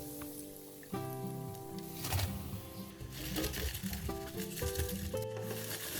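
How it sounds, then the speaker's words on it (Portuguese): Shrimp croquettes frying in hot oil, a steady crackling sizzle that starts abruptly as they go in, with some clinks and background sounds over it and no speech. "Vamos lá fritar todos os nossos salgados deliciosos, croquetes"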